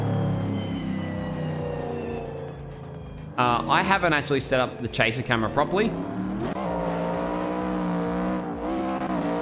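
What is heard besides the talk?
loud car engine in Assetto Corsa video game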